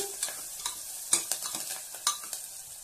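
Curry leaves sizzle gently in hot oil in a pan while a spoon scrapes and stirs them in a few soft strokes; close and quiet.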